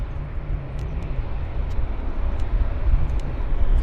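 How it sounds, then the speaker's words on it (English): A Japan Airlines Boeing Dreamliner airliner at Vancouver airport gives off a steady, low jet roar that swells slightly and hangs in the distance without a break. "We've got Japan Airlines showing up here in Vancouver with a Dreamliner"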